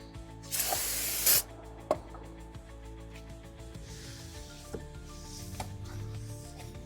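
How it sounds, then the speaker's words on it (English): Brake parts cleaner sprayed onto a new front brake rotor for a 2011-2015 Chevy Cruze: one loud hissing burst of roughly a second, followed by a few clicks and knocks as the part is handled in a quiet garage. "So we have to clean it off with some brake parts cleaner before we put it on and put new pads on it."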